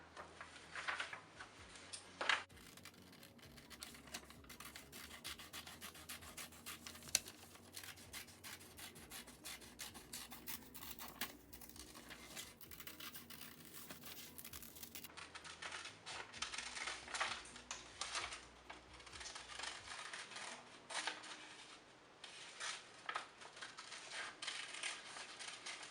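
Scissors cut through a paper rainbow pattern for a felt craft. Soft, close snipping and rubbing go on steadily at low volume in a quiet room, with no talking.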